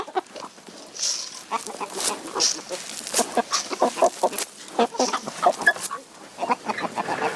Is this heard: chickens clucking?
yes